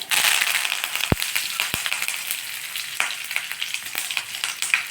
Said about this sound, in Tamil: இப்போ மிளகாய் தாளிச்சாச்சு கருவேப்பிலை போட்டாச்சு